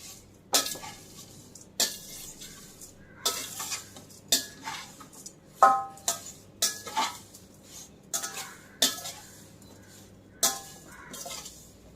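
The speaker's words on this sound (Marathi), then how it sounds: "मी आता हे दुसऱ्यांदा पोहे घातलेले आहेत जे थोडे राहिले होते आपले मीडियम गॅस केलेला आहे पण भाजून घेऊया" Thin poha flakes roasting over medium heat are stirred in a pan, giving a series of sharp metallic scrapes and clinks of the spoon against the pan every second or so, close and clear with no talking.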